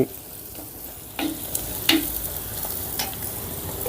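A spoon stirs salted curry in a pan, giving soft scraping strokes over a low sizzle, with a few sharper clinks against the metal.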